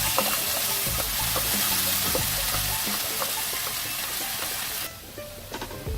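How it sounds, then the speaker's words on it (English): Boiled vegetable puree poured into a pan of dry-roasted cumin seeds for oil-free chickpeas, giving a close, steady hissing and spattering sizzle that cuts off abruptly near the end, followed by faint scattered pan clicks. "we are going to add our boiled vegetable puree"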